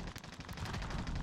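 Dense gunfire from Call of Duty on Fortune's Keep crackles continuously, rapid automatic shots blending into a loud, close, unbroken volley.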